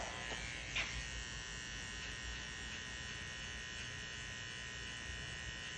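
Oster Fast Feed hair clippers with the lever down, cutting hair during a mid fade haircut, a steady thin electric buzz close by with a brief louder flick near the start.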